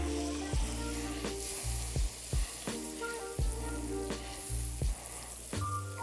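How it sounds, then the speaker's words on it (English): Butter melts and sizzles in a skillet as smothered chicken gets started, a steady close fry running throughout, broken by several sharp utensil clinks and scrapes against the pan with no one talking. "First thing I'm going to do is melt my butter"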